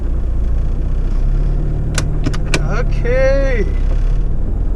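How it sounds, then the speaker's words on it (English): A Lancia Delta Integrale engine idles with a steady low rumble while a person speaks briefly and a few clicks and a short rising whine sound inside the cabin. "we just managed to start the car"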